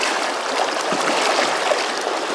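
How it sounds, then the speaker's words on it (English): Fast-moving water of the South Fork Snake River rushing past in a steady, close, broadband wash of flow noise, with no voices heard. "The water's moving this fast."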